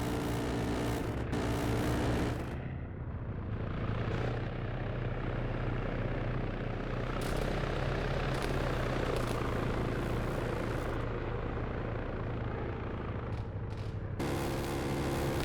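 Helicopter flying in a video game: a steady, loud rotor and engine drone that continues through the whole stretch without a break, with no voices.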